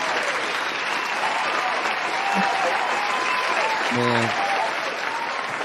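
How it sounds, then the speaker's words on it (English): An audience applauds for Joe K in steady, dense clapping that fills the space, with a voice briefly speaking over it. "Let's put a round of applause for the boy Joe K."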